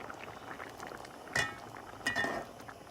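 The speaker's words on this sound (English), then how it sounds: "Just let it boil. Let it boil for a while." A pot of rice boiling steadily on the stove, a continuous low bubbling and simmering with a couple of brief metallic clinks partway through, heard close and alone without talk.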